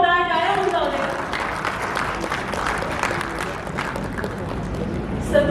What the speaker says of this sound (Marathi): मान्यवरांसाठी एका जोरदार टाळ्या होऊन जाऊ दे.